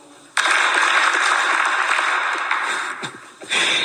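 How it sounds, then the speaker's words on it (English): An audience claps together in a sustained burst of applause-like clapping, dense and fairly loud, with no distinct individual claps countable and a brief dip near the end. "can I ask the audience to clap their hands 5 times for me?"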